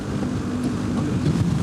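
Strong wind buffeting a motorcycle rider on a Norwegian road, a steady low roar with gusty swells throughout a short stretch.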